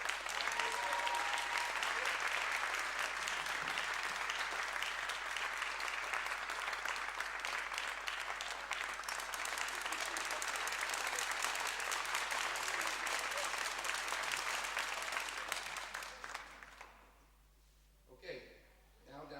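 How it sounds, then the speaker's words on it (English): Sustained applause fills a girls' varsity basketball tournament awards ceremony, a dense steady roar of many hands clapping for about sixteen seconds before tapering off into near quiet. "a big round of applause for her."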